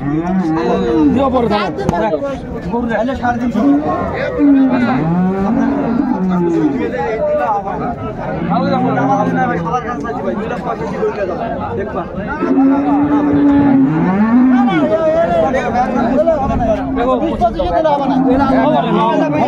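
Cattle mooing at Raniganj cattle market in Dinajpur, where dairy cows and calves are traded. Several long, wavering moos rise repeatedly over constant crowd chatter and nearby talking voices.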